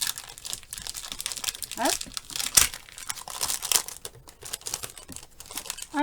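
Packaging around a new rubber stamp is torn and crinkled open in close, irregular bursts of rustling plastic and paper, with someone speaking French briefly over it.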